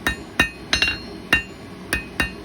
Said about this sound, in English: Got to keep the hammer moving, keep the steel moving.